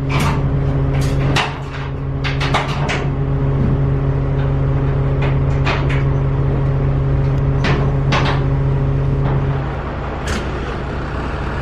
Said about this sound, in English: Ah, don't want to start. Battery is dead.